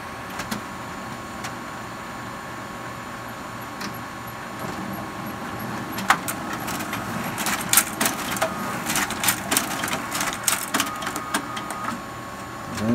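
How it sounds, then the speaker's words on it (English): An office printer prints a PDF document, starting with faint whirring and then building into a run of rapid mechanical clicks, feed rattles and motor whines near the mic, with no talk. "You can hear the printer start to work."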